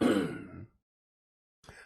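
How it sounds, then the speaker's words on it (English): A man clears his throat with a rough, raspy rumble outdoors on a rainy morning, followed by a pause and a shorter second throaty sound, close and fairly loud with no words spoken. "when I need to clear my throat"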